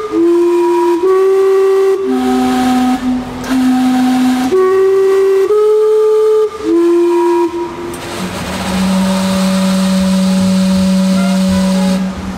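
Vancouver's steam clock whistles the Westminster chimes in clear stepped notes, ending on a long sustained low tone, loud amid outdoor city bustle.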